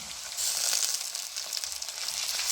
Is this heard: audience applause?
no